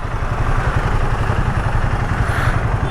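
A Royal Enfield Himalayan 450 motorcycle engine runs steadily up close, a loud, continuous low throb with fine mechanical clatter and no break across the whole stretch.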